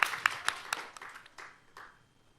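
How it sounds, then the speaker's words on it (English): A small audience gives brief applause to welcome a speaker, Professor John Twigg, at a talk on climate change adaptation and disaster resilience, with several sharp claps at first that quickly thin and fade. "So please welcome him with a big round of applause."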